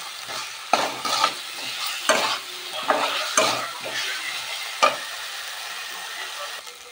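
Spices, including home-ground turmeric, fry in a pan under a soft sizzle, with a spoon scraping and stirring through them in several distinct knocking strokes close by.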